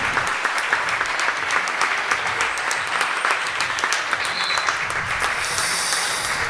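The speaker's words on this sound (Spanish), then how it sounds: "Quiero un aplauso para Maje en el día de hoy" An audience at a poetry slam in Iruñea gives dense, sustained applause, a steady roar of clapping at even loudness with a few scattered cheers near the end.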